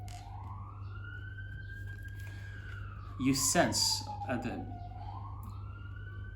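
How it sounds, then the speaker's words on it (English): An emergency siren wails outside, its long tone rising and falling steadily at a distance, while a person talks briefly over it indoors. "this is coinciding with the siren outside"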